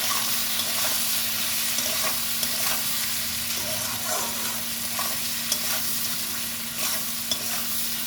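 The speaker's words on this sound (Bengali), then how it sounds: "এবার কুদলিগুলোকে সব ভালো করে ভেজে নেব।" Kudli frying in a pan with turmeric, red chilli powder and sugar: a steady close sizzle with occasional soft scrapes of stirring throughout, and no speech.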